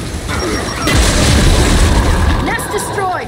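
A heavy explosion destroys an enemy nest in the Gears 5 video game: one deep booming blast with a rumbling tail that persists, with game effects and a voice over it.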